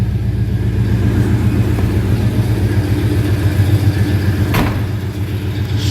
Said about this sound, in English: Slip around to the rear of it so you can hear the little rumble out of that 390.